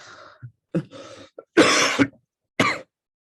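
A person with a fever coughs and clears their throat in a quiet room, a few rough, close bursts of varying length separated by short silences.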